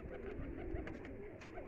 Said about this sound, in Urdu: نایاب ویشی کبوتر ہے